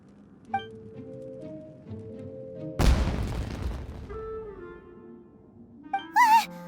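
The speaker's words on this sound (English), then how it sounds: "Was that an explosion? It sounded like fireworks." Fireworks burst in Genshin Impact: one sudden loud blast with a crackling, fading tail cuts through soft game music, and brief bright chirping tones follow near the end.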